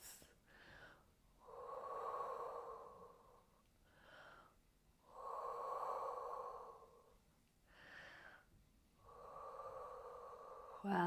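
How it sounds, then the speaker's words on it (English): Slow, deep breathing during a Pilates and yoga stretch, with about three long, soft, airy breath cycles spaced a few seconds apart, close and fairly quiet with no talking. "take some deep breaths."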